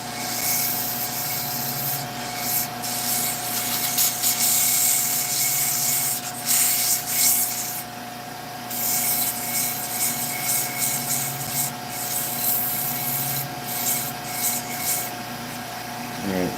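Hand sanding of a very thin wooden piece on a lathe, a steady close scratchy rubbing that runs continuously with slight swells in intensity throughout.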